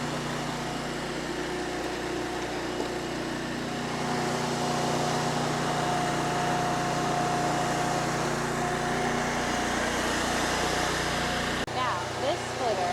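Log splitter engine running steadily outdoors, a continuous near drone with an even tone throughout, a brief change near the end.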